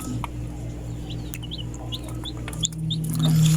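Newly hatched chicks from a homemade incubator peep in short, high, scattered chirps, faint and close, over a steady low electrical hum.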